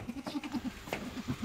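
Newborn native goat kids bleat in a steady run of short, repeated calls, close and fairly loud, alone with no talk.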